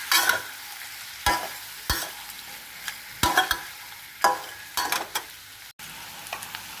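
Shrimp with a splash of fish sauce stirred in a hot pan for a salt-and-fresh-chilli shrimp dish: a constant sizzle broken by repeated loud scraping strokes of the spatula, up close, no talking.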